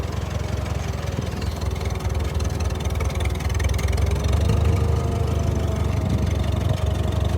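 A tractor engine in first gear pulling a silage trailer slowly on a farm, with a continuous low, rumbling drone that holds steady throughout and swells slightly midway.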